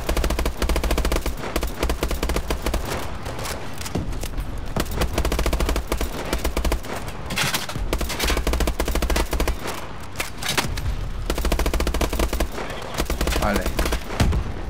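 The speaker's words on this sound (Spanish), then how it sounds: "Mitchell, dispare a la azotea." Rapid automatic gunfire and scattered shots from the video game Call of Duty: Advanced Warfare, a near-continuous loud barrage of bursts through the whole stretch.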